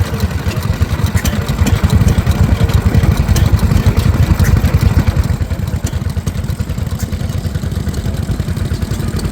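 A vintage 1913 Lister Type L stationary engine running at a machinery rally, with a steady, rapid mechanical chugging and clatter heard close and loud throughout.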